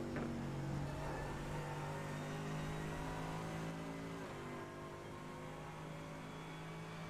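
A GT3 race car in the iRacing game laps Le Mans, heard onboard as a loud, steady engine drone that holds a high pitch, then shifts slightly lower partway through, with no talking.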